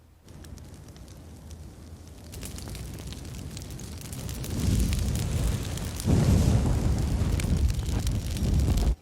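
A fire burns in a TV drama scene, a dense crackling roar that builds steadily louder over several seconds with no voices over it.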